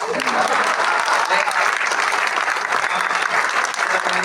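Dense, continuous applause from a large crowd at a Hindi poetry recital fills the whole clip, loud and steady with no pauses.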